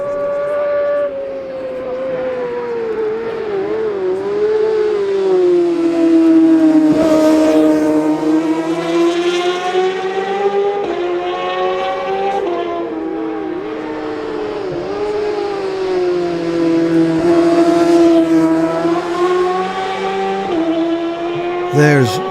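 Racing motorcycles in the 2018 Manx Grand Prix newcomers race at Ballacraine on the Isle of Man, their engines rising and falling in long whining passes, loud and near, with a commentator talking over them.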